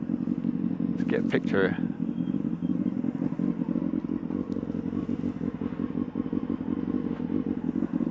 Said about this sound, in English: My bike sounds like it's gonna die.